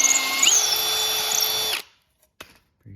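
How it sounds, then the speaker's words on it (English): Power drill pre-drilling a hole in wood for a bird feeder: a loud, close whine that steps up in pitch, then cuts off, followed by a couple of faint knocks. "Pre-drill."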